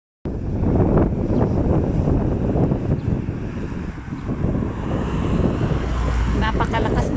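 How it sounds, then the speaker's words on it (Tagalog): Strong wind blows after a full day of rain, a loud steady gusting roar that buffets the microphone throughout, dipping briefly before building again. "Napakalakas ng hangin."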